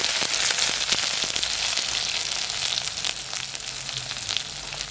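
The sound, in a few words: onions frying in oil with mustard and fennel seeds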